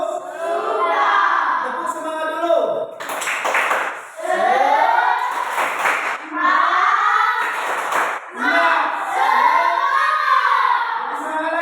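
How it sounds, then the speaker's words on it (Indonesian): A classroom of children doing a rhythmic spirit clap in unison, with patterned bursts of clapping mixed with loud chanting voices, close and energetic. "Tepuk semangat dulu"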